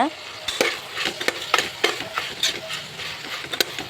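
Ingredients for tomato bath fry and get stirred in a pan, with a steady soft sizzle under irregular scraping and clinking strokes of a utensil against the pan.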